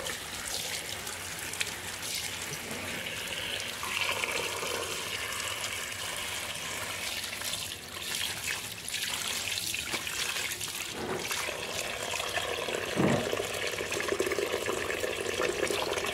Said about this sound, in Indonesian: Kita masukkan airnya.